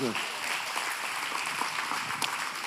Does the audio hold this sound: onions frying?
no